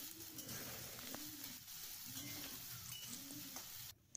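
Onions frying in a pan for paneer butter masala, a steady soft sizzle throughout with faint cooing birds in the background, no talk, stopping abruptly near the end.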